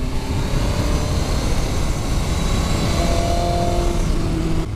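BMW S1000RR M-Sport motorcycle with a big open exhaust and no baffle, its engine held at steady high revs, a loud, close, continuous roar with a faint tonal whine riding over it.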